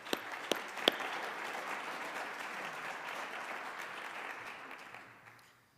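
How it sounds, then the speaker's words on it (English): An audience at a high school National Honor Society induction ceremony applauds steadily, a dense wash of clapping with a few sharp claps near the start, holding even before fading out at the end. "So maybe we can give them a round of applause,"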